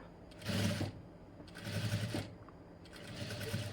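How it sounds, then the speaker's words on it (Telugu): Sewing machine stitching double thread piping, running in three bursts with short pauses between, moderately loud and close with no talk. "సూది కిందికి మిషన్ పాదం పైకి పెట్టుకుంటూ స్లోగా స్టిచ్చింగ్ అనేది వేసేసుకుంటూ వచ్చేసేయండి"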